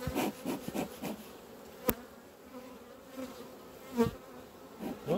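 Honeybees buzz faintly around a beehive frame, a thin droning hum broken by soft wooden knocks and rubbing as the frame is handled.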